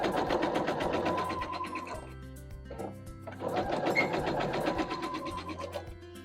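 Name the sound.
sewing machine stitching quilt fabric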